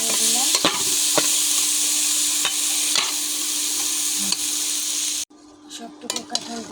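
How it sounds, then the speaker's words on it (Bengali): Jackfruit curry sizzles loudly in a pan while a spoon stirs it with occasional scrapes and knocks, and the frying cuts away abruptly near the end. "আমি কাঁঠাল আবারও ভালো করে নেড়ে দিলাম।"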